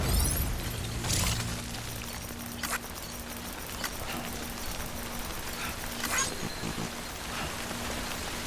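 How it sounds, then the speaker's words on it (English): Timefall rain in the video game Death Stranding, a steady wash of falling rain with scattered sharper taps and faint thuds like footsteps, continuous at moderate level with no voices. "Don't stay out in the rain any longer than you have to."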